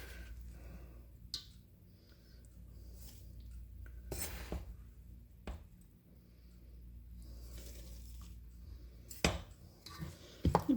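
Rice flour dough for kolukkattai mixed in a bowl, quiet intermittent scraping and clinks of a utensil against the bowl, faint and sparse against a low background hum.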